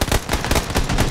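SKS rifle fire in PUBG: a rapid, loud burst of several sharp, close gunshots in quick succession, with no talking.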